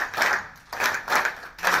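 An audience at an event claps in unison on a count, producing three or four loud bursts of rhythmic hand claps with short gaps between them.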